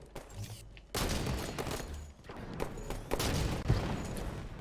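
Sniper rifle fire in Halo 5 multiplayer, several loud, sharp reports cracking out at irregular intervals over dense battle noise, with booming impacts and echoing tails.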